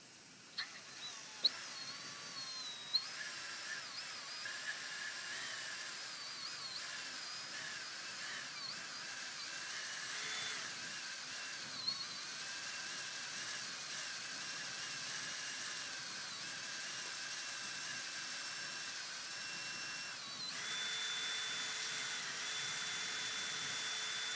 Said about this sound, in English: I got to use my trusty drill.